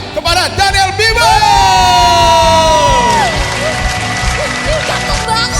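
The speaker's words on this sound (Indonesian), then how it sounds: "Mari berikan tepuk tangan yang paling meriah kepada Daniel Bimo" An audience cheers and applauds for a magician at a children's Christmas service, loud crowd whoops and shouting over steady clapping, with a high sustained vocal cry rising above the din partway through.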